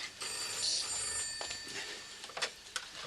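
A telephone bell rings indoors in a home setting, a continuous high metallic trill with a few sharp clicks near the end, moderately quiet with no talking.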